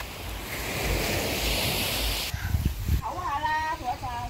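Ocean waves wash on the shore at Cheung Chau beach in Hong Kong, a broad rushing surf with wind, before voices start talking over fainter surf.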